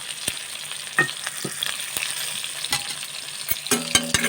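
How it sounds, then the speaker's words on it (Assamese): Sliced onions and green chillies sizzle in hot oil in a pan for pasta, a close crackling hiss broken by sharp clicks and scrapes as they are stirred, with no talking. "তেল গৰম হৈ গৈছে, এতিয়া পিঁয়াজখিনি দি দিছোঁ লাহেকৈ। জলকীয়াখিনিও দি দিছোঁ।"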